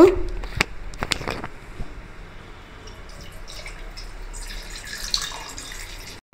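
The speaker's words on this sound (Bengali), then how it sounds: "আবার এবার জল দেব।" Water pours into a pot on a kitchen stove while syrup for rasgulla is being made, a thin steady trickle and splash preceded by a few sharp clanks of utensils.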